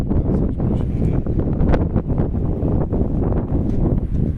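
Strong wind buffeting the microphone, a loud continuous low rumble with gusty surges throughout.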